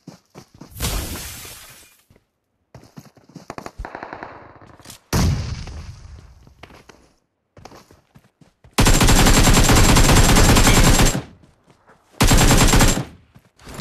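Shotgun blasts in the battle royale game PUBG, sharp loud shots with short decays early on, followed later by two long, dense, very loud bursts of gunfire and shattering.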